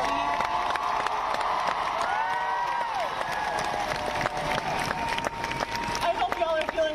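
A crowd at a climate rally claps and cheers in a steady, dense wash of applause with shouts and whoops rising above it, heard from within the crowd, with some voices talking through it.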